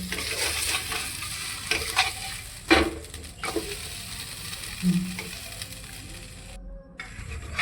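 A bread aloo sandwich frying in a pan after being flipped, a soft, even sizzle broken by spatula scrapes and taps, with a short quiet gap near the end.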